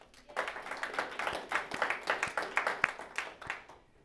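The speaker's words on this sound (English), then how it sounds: "give yourselves a round of applause for showing up today" Attendees at a monthly marketing meetup applaud in a modest, steady round of clapping that runs for a few seconds at moderate distance before fading out.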